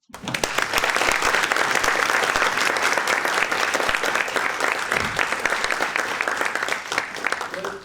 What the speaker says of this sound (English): can I just ask everyone to give ourselves a round of applause for what is a wonderful academic community